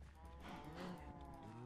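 Cows in modded Minecraft 1.10.2 moo in a long, steady, low lowing call that fills the short stretch at modest volume with no talk over it.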